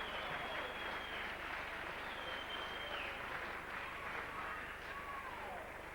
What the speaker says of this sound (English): Deserved applause for Gibson.